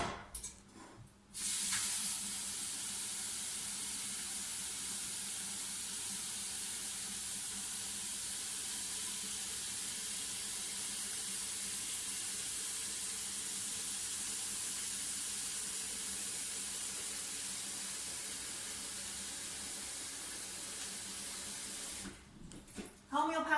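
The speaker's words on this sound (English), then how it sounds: "And then I'm going to top this up with water" Tap water runs steadily into a cooking pot being topped up for boiling wholemeal pasta, a continuous rushing hiss lasting around twenty seconds that starts and stops abruptly, with no talking over it.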